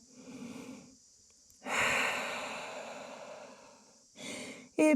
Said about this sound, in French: Grande respiration en posture de l'enfant.